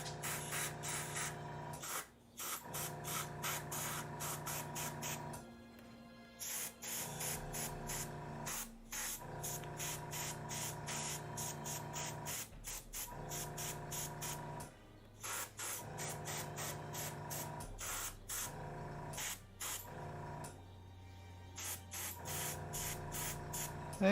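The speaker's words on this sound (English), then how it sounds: "we're gonna hit it with the oldie hairdryer" A steady, loud blowing whir runs almost continuously, cutting out briefly a few times before starting up again, like a hand-held hair dryer.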